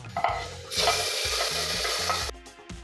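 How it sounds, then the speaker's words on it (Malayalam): Mustard seeds, dried red chillies, chopped shallots and curry leaves tempered in hot oil sizzle loudly as the mixture is poured and stirred into a parippu dal curry, with scraping spoon strokes before the hiss dies away near the end. "അര ടീസ്പൂൺ കടുകും മൂന്ന് വറ്റൽമുളകും നാല് ചെറിയ ഉള്ളി അരിഞ്ഞതും കുറച്ച് കറിവേപ്പിലയോടെ ചേർത്ത് മൂപ്പിച്ചെടുക്കുക ഇനി ഇത് കറിയിലേക്ക് ചേർക്കാം"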